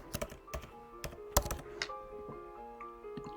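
Keys tapped on a MacBook keyboard to enter a password, a quick irregular burst of close, light clicks with a few heavier thunks, then sparser taps trailing off in a quiet room.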